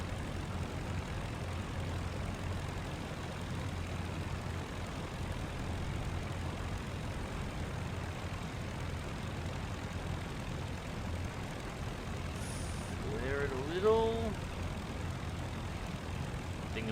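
A World War I era plane's engine drones steadily and quietly in the flight game Rise of Flight while it comes in to land, with a brief louder rising note near the end.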